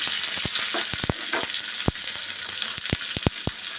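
Mustard seeds, curry leaves and onions fry in a pan with a continuous close sizzle, and sharp crackling pops from the spluttering seeds break in at irregular moments.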